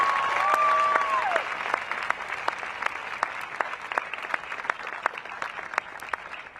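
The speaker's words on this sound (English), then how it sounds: "Let's clap that up. Clap it up." A crowd claps at an outdoor George Floyd protest rally in Denver, scattered loose applause with distinct individual claps, opening with a brief whistle-like tone and gradually thinning out toward the end.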